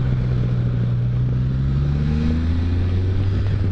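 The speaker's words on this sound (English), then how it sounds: "This Toyota is ridiculously slow." A slow Toyota car drives along a busy back road, its engine droning steadily with a low hum that rises gently in pitch as it picks up speed, loud and continuous from start to finish.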